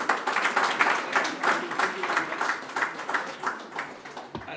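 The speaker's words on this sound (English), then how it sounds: "Another round of applause, please, for our CEO, Mr. Peter Ndegwa." Audience applause at a Tecno devices launch event, a dense, continuous round of many hands clapping at moderate distance, steady throughout with slight swells.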